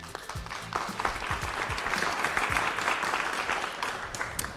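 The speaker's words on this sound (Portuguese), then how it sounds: "Uma salva de palmas para eles." Applause from an audience at a Mozambican justice-sector event, a steady dense wash of clapping that holds at even strength for several seconds, close and fairly loud with no voices over it.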